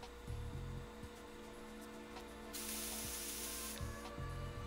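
Spray hissing in the video game Metal Gear Solid 2: a steady, airy spray burst lasting over a second, set against a constant low in-game hum with a few soft clicks.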